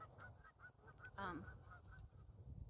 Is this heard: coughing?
no